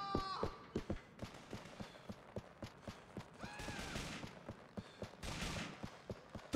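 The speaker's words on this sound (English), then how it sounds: "stop shooting dead bodies, they are dead" Gunfire rings out in the video game GTA IV: The Lost and Damned as a steady series of sharp, fairly faint shots, mixed with occasional tonal game effects.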